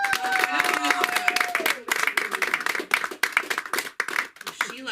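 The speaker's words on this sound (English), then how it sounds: "And she, let's clap it up for Sunda." Open-mic comedy club audience claps and applauds in a dense burst of hand claps, while a performer keeps talking over it throughout.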